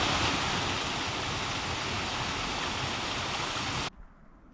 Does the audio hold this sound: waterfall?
yes